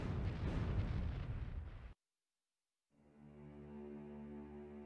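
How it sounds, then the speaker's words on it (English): Depth charges burst around submerged U-boats, a deep, heavy rumbling blast roaring for about two seconds and cutting off abruptly, then a low droning hum rises after a short silence. "as depth charges spread out around the submerged boats and the lethal explosions that could burst the hull began"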